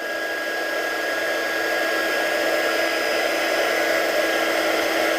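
A heat tool blows steadily over glitter embossing powder on a stamped card, a continuous airy whir like a hair dryer, close and even throughout with no talking.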